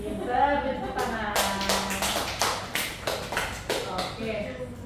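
Students in a classroom break into a short round of applause, a burst of brisk claps lasting a few seconds over faint room noise.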